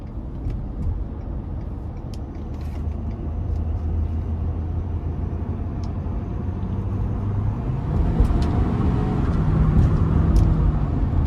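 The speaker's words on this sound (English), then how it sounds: "I'm gonna give it a little bit of throttle getting on the interstate here" Ford F350 dually pickup with a 6.7 turbodiesel V8 accelerating onto an interstate, heard as a steady, continuous in-cab engine drone and road rumble that swells slightly louder toward the end.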